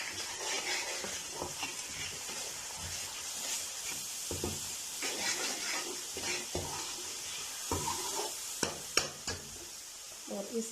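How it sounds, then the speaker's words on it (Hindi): Spices frying in a pan for egg masala curry, a steady sizzle broken by repeated scraping and stirring strokes at close range, with no voices. "तकरीबन 30 सेकंड के लिए हम जो है मसालों को भून"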